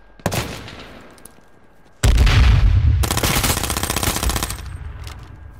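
Gunfire in an online free-for-all shooter game: a sharp single shot, then after a pause a heavy blast followed by a loud sustained burst of rapid fire that tapers off.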